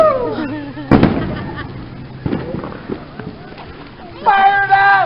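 A firework goes off with a sharp, loud bang near the start, followed by crackling and commotion, while several people talk and shout excitedly throughout.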